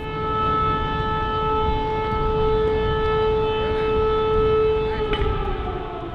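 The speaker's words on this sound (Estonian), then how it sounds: "Ohust teavitame alati ühe kindla heliga, milleks on minutipikkune tõusev-langev toon" A civil defense warning siren with a rising-falling tone wails steadily and loudly for the whole stretch, its pitch sliding slowly, with a constant rumble beneath it.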